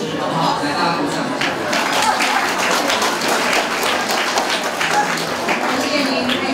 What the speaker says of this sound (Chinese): 来，大家鼓掌。